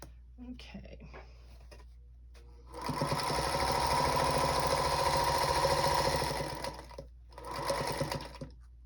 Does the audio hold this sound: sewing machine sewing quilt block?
yes